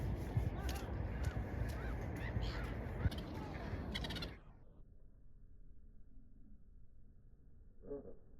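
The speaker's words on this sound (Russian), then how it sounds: "А вот у нас чайки начали прилетать." Harsh gull calls ring out in a noisy outdoor scene with wind in Ukhta, Komi Republic, in May, then the noise drops away and a lone call sounds faintly near the end.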